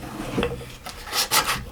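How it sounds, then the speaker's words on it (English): Wooden dowels sanded by hand, a few short rasping rubs of abrasive on wood that come in uneven strokes, close and moderately loud, with no talk. "will need to do a little bit of sanding"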